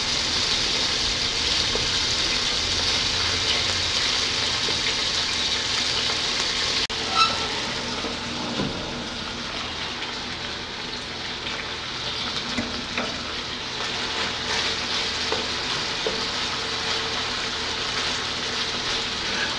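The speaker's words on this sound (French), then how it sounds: "We cook the shrimp until they become pink." Shrimp fry in a pan for noodles, giving a steady close sizzle throughout with occasional small pops and a few utensil clicks.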